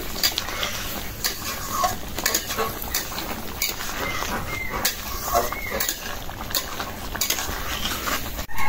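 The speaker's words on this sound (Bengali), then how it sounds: "রসুনটা একটু ছেঁচে দিচ্ছি" Garlic is crushed by hand for a taro dish with coconut: a steady run of close, soft taps and gritty scraping, with scattered sharper knocks throughout.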